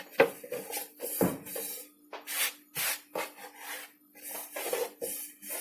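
Thin lavash-style flatbread dough rolled out by hand with a long thin rolling pin, giving repeated soft rubbing, rasping strokes in uneven bursts, close and fairly quiet, with no talking.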